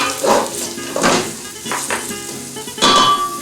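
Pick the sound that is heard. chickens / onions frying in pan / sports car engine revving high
onions frying in pan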